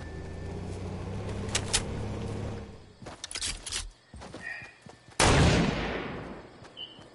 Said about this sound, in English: The reason I don't wanna get caught up in that gunfire